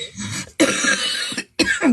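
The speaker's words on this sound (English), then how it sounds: "I still have this cough, right?" A person coughs close up in two or three harsh, sustained bursts, with short silent gaps between them.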